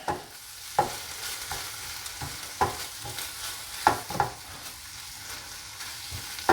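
Crab Oscar topping ingredients are stirred together, with a spoon knocking and scraping against the bowl in irregular taps over a soft steady background, close and moderately quiet.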